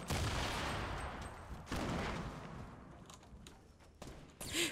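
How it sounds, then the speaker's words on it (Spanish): Gunfire in the Fortnite video game, a burst of loud, dense shots up close at the start, then further scattered shots trailing off. "¿De dónde me está disparando?"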